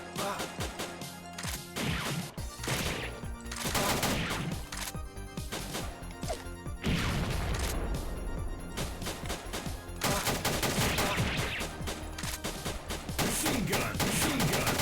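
Machine gun fire rattles nonstop in a video game, loud dense bursts filling the whole stretch with crashing impacts mixed in.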